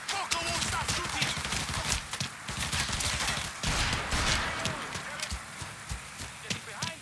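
Rapid gunfire in a shootout in the video game Mafia 3, bursts of shots fairly close and moderately loud, mixed with footsteps and scattered shouting voices.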